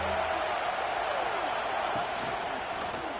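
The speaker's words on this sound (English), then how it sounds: "This crowd bringing the energy and noise early." Steady, dense roar of a stadium crowd in an American football video game, filling the whole clip at an even level with no clear individual voices.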